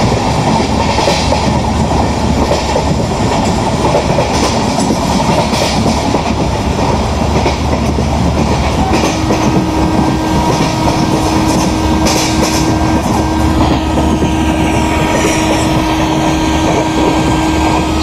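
Simulated Indian Railways train running on rails in the MSTS Open Rails simulator, a Patna–Shalimar AC Duronto Express, giving a steady loud rumble with rhythmic wheel clatter throughout and a sustained tonal hum joining midway, no voices.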